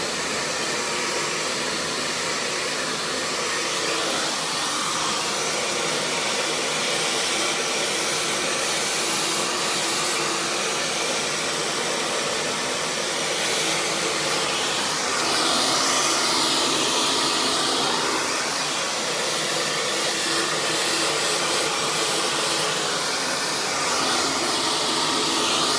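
A hair dryer blows loud and steady on hair being blow-dried section by section, a continuous close whoosh with slight shifts in tone as it moves.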